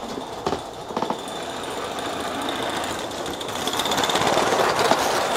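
Aster gauge 1 live-steam Titfield Thunderbolt model locomotive running with Meccano wagons, its wheels slipping: a steady close mechanical chuffing and whirring with a few sharper knocks near the start, growing slightly louder toward the end.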